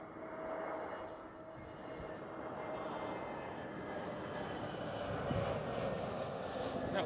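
A TAP Air Portugal Airbus A320neo jet passes at Schiphol airport, a steady broad engine roar at moderate distance that swells slightly over several seconds.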